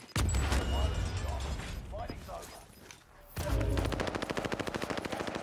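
Video game gunfire from a battle royale shooter, an opening burst of heavy shots and then rapid automatic fire with evenly spaced cracks, loud and close, with players talking over it.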